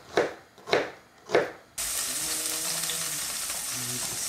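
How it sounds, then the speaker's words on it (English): Onion frying in a pan for green borscht sets up a steady, close sizzle that runs on without a break, coming in right after three soft thumps. "we will beginning fry our onion"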